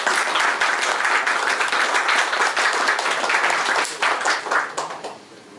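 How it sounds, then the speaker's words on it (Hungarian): Sustained applause from an audience at an award ceremony honoring recipients, dense steady clapping for about four seconds before thinning and fading out at the end. "úgyhogy egy nagy tapsot, hogy itt van köztünk"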